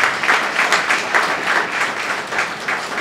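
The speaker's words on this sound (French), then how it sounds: "Je vous demande d'applaudir ça." Audience applause at a gathering, steady crowd clapping filling the whole moment with rhythmic swells, fairly close and dense, no talk over it.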